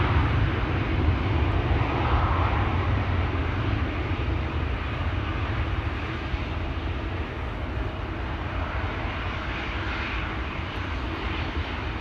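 A passenger airliner in SkyTeam livery approaches near Schiphol Airport, its engines a steady, loud broadband roar that holds throughout with a deep low rumble and no talk.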